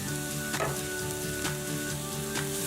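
Red chili powder goes into a hot pan of South Indian vegetable kurma, giving a continuous close sizzle with a few brief stirring scrapes.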